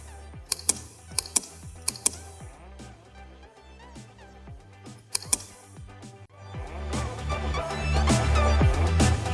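Rapid computer keyboard typing while a captcha is filled in during a website sign-up, crisp key clicks in quick bursts with a few sharper strokes, heard close and alone without talk.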